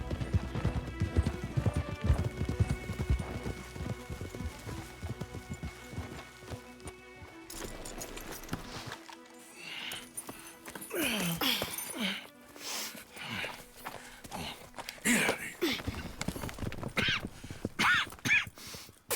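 Horse hooves clip-clop in Red Dead Redemption 2, a steady rhythmic trot under background game music and ambience, fading partway through as the riders stop, with occasional whinnies and rain-like patter.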